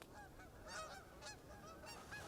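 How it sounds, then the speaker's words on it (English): Geese honk repeatedly overhead as they fly above a forest, a few nasal calls rising and falling at moderate distance over a steady background hiss. "there's been like geese flying over for forever"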